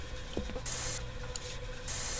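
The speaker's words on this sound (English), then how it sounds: "Oh, I can spray!" A spray can hisses in two long, loud bursts in the indie horror game Erie, with a short pause between them and quiet ambient hum underneath.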